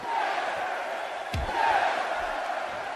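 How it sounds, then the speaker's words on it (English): Wrestling arena crowd in WWE 2K17 chanting and roaring steadily throughout, a dense broad wash of voices with a brief thud of ring impact midway. "the crowd chanting along with him."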